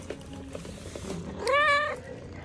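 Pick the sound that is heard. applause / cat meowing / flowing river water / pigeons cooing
cat meowing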